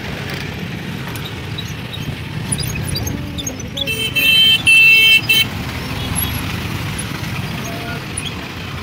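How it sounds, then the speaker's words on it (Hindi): Cars start up and begin moving off as a gate opens, a close mix of idling engines and traffic noise with a bright horn-like burst in the middle; a faint voice is heard briefly. "बाकी सबका गाड़ी स्टार्ट हो गया है।"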